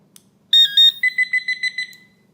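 A Garrett Pro Pointer AT pinpointer set to full power sounds its alert: two loud electronic tones followed by a quick run of about seven clipped beeps, clear and close.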